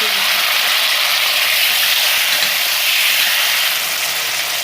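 Chopped tomatoes hit a hot pan of golden-fried onions for sarson ka saag, giving a loud, steady, broadband sizzle that holds evenly with no talk over it.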